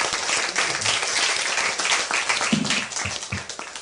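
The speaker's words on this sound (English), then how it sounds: "Another round of applause, please, for Dr. Lehman" Audience applause at a debate on the historicity of Jesus, honoring Dr. Lehman; steady clapping from a room of listeners runs throughout, with a few low voices or thumps underneath.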